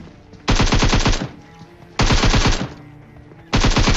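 Three rapid bursts of automatic gunfire in an online shooter video game, each about a second long, loud and close, with short quiet gaps between them.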